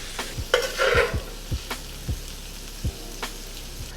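Shrimp sizzling in a skillet, a close, steady sizzle broken by a run of sharp taps and scrapes from a spatula stirring the pan, with no talking.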